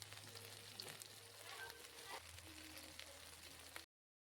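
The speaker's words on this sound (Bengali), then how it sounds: "হলুদ গুঁড়ো জিরে গুঁড়ো এবং ধনে গুঁড়ো দিয়ে খুব ভালোভাবে আবার ভাজতে থাকবো" Ground turmeric, cumin and coriander frying in oil in a wok for a Bengali mutton curry, a steady soft sizzle with faint stirring scrapes, quiet and close, ending abruptly.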